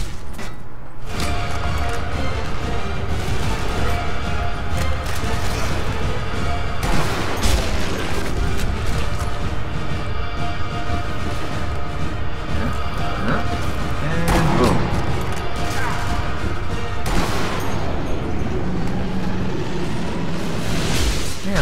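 Gunfire in the video game Sniper Elite V2 rings out as several sharp, loud shots spread across a continuous noisy battle din, with someone talking throughout.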